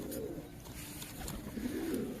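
A freshly caught pigeon coos in soft, low, repeated murmurs close by, steady and alone, with no voices.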